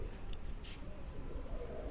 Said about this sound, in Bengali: কত সুন্দর ডাক আমার কবুতরের। এই যে দেখেন ডাকতেছে।